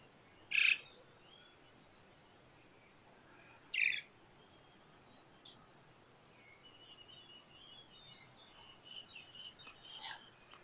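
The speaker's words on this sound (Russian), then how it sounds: "Послушайте, как птицы поют" Birds call faintly at dawn at a condo in Pattaya, Thailand: two distinct sharp chirps a few seconds apart, then softer, scattered twittering over a quiet hiss.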